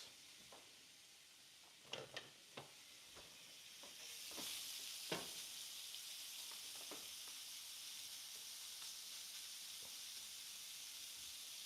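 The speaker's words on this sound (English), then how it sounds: "hear that sizzle?" Food sizzling in a frying pan in a kitchen, a quiet steady hiss with a few clinks and stirring taps early on, the sizzle swelling and holding after a few seconds.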